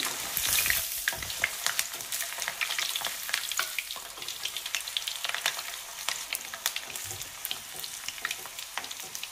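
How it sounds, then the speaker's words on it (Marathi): Noodles are dropped a little at a time into hot oil over a medium gas flame for veg manchow soup, giving a steady, close, crackling sizzle with sharp spitting pops throughout and no talking. "इथे मी थोडेसे नूडल्स घेतलेले आहेत, थोडे थोडे नूडल्सच तेलात असे टाकायचे"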